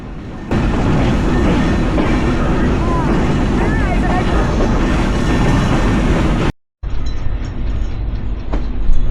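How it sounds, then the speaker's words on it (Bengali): A passenger train pulls out of Mobarakganj railway station in Jhenaidah district, Bangladesh, bound toward Jessore; a steady, loud broadband rumble of wheels and carriages fills the whole stretch, broken by a brief dropout before the noise resumes. "তো এখন কিন্তু আমাদের ট্রেনটা মোবারকগঞ্জ রেল স্টেশন থেকে ছেড়ে গেল"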